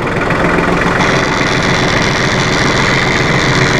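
A 2005 New Holland TC30 compact tractor engine runs loud and steady as the machine creeps along slowly in low range, a constant close diesel drone with no voices.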